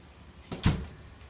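A house door leading out to a backyard pool opens with a short click and a heavier thud, close by and brief, in an otherwise quiet room.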